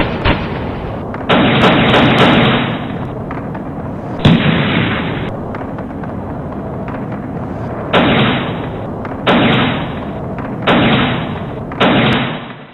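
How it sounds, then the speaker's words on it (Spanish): Repeated bursts of loud gunfire from Chavista supporters during street clashes with riot vehicles ring out in clusters, with short quieter gaps between volleys and a harsh, echoing outdoor character. "Los disparos de los bolivarianos se dirigían a una avenida"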